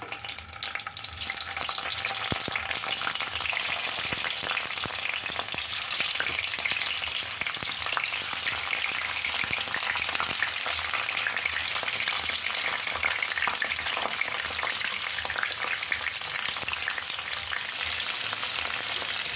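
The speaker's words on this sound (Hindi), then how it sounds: "परवल को फ्राई करना है।" Stuffed pointed gourd (bharwa parwal) fries in a hot wok, a steady, loud, dense sizzle that holds without pause for the whole stretch, with no voices.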